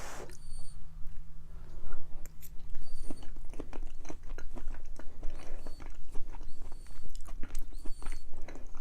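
Close-up chewing of smoked sausage, potatoes and cabbage cooked in a pressure cooker, with steady wet crunches and mouth sounds repeating throughout, no talking.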